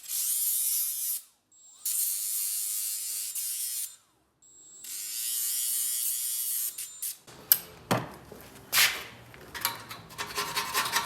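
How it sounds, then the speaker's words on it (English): A small electric grinder sharpens a tool with a high, steady whine in three long runs separated by short pauses, followed by scattered clanks and scraping handling noises. "I've been sharpening this with my little grinder."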